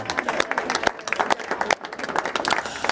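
Indoor audience at a corporate diversity and inclusion session bursts into sustained clapping mixed with cheers and whoops, dense and continuous with a brief lull midway.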